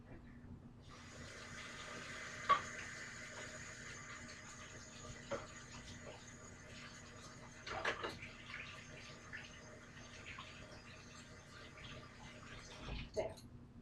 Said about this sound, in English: Now we're going to rinse this off unless you have multiple beaters